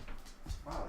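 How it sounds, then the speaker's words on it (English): A dog barks and yips outdoors at a distance, a few short, faint calls, with a person speaking a word over it. "You can hear a dog barking out."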